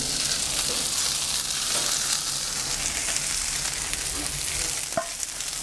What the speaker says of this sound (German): Unsere Knödel und unser Fleisch dürfen jetzt hier erst einmal schön anrösten